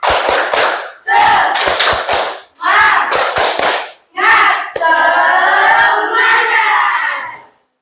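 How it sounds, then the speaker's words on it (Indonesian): Classroom of students doing a rhythmic spirit clap, sharp patterned claps in quick bursts with pauses, joined by loud group shouting and chanting near and full, ending in sustained voices. "biar lebih semangat lagi, kita tepuk semangat"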